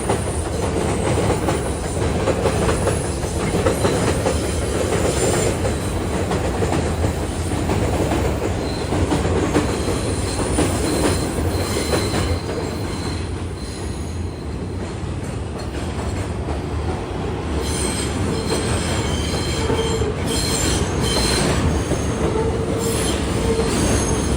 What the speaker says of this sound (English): And there goes the subway.